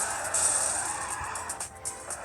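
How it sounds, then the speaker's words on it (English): In the Car Crusher 2 video game, a car driven fast without braking roars and skids in a steady, dense rush of engine and tire noise for a couple of seconds. "Now we're gonna drive like an insane person and see what happens."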